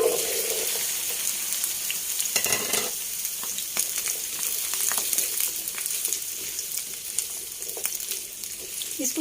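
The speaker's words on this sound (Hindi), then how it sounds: "इसमें मैं पहले भिंडी डालती हूँ।" Okra (bhindi) frying in hot oil in a frying pan, a close, continuous crackling sizzle with scattered pops and a brief stirring scrape early on, no voices over it.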